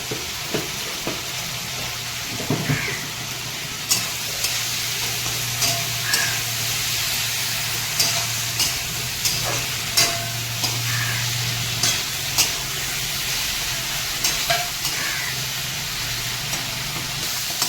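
Chicken feet stir-fry in spiced masala in a pan, a continuous loud sizzle and hiss broken by regular scraping strokes of a spatula, close up and steady throughout without speech.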